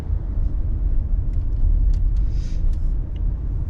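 A car engine rumbles steadily close by while driving on a snowy road, a low continuous road drone with a few faint high squeaks near the end.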